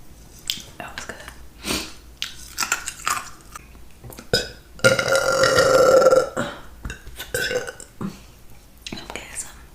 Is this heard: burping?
yes